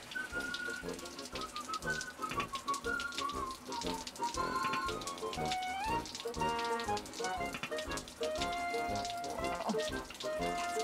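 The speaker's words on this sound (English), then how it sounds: "how would you like to try out what it's like taking a shower in Yankee's rain locker?" A shower runs in the rain locker of the ship Yankee, a steady hiss of falling water with whistling tones and music-like pitched sounds over it.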